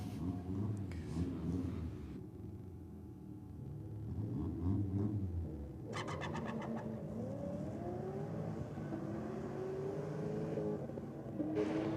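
A Commodore race car at a drag strip rumbles and revs from a distance, its engine tone climbing steadily while a commentator talks over it.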